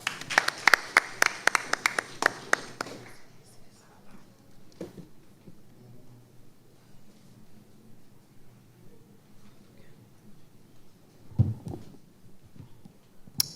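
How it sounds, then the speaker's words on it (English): Sparse audience clapping at a youth development graduation ceremony, a few distinct claps close by for about three seconds, followed by quiet room hum with occasional thumps. "Let's give her a hand of applause."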